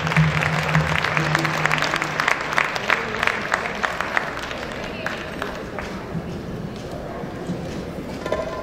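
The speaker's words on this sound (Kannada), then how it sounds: "ಮತ್ತೊಮ್ಮೆ ಎಲ್ಲರೂ ಜೋರಾಗಿ ಚಪ್ಪಾಳೆ ತಟ್ಟಿ" Audience applause at a birthday stage event, a dense, steady wash of clapping and crowd noise that carries on throughout, with a few louder claps standing out early.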